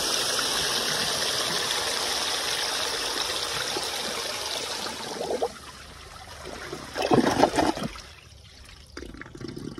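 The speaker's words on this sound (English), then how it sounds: "it's pretty much flushing like a front flusher" A 1920 Standard Ejecto toilet flushes with a loud, steady rush of water that surges, then thins to a gurgling siphon draw and trickle near the end.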